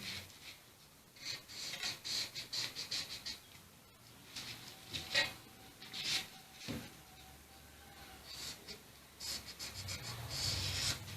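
A pencil scratches along a ruler while a pattern for an off-shoulder bustier is drafted on paper, giving faint, close, uneven scraping strokes with small taps and pauses between them.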